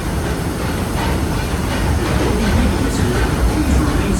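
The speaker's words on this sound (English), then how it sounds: "Please remain seated until the train comes to a complete stop." A Disneyland Railroad train rolls along its rails with a continuous loud rumble and rattling clatter, steady throughout at close range.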